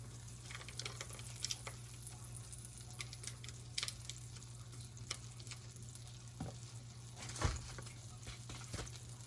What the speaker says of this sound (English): We're just melting this butter. We're gonna move it around in there.